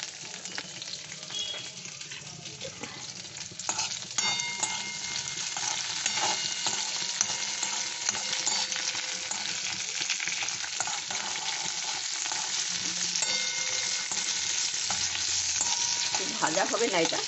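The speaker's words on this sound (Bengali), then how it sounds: "মানে একটু সতে করে দিয়ে দেবো ওর মধ্যে" Chicken do pyaza ingredients, including capsicum, are sautéed in a pan, a continuous close sizzle with clinking and scraping of stirring that grows slightly louder after the first few seconds.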